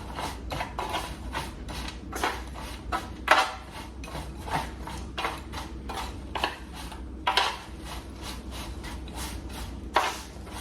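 Cooled homemade granola being mixed with chocolate chips in a bowl, with rhythmic scraping and rubbing strokes of a utensil repeating close by, crunchy and dry, with no talking.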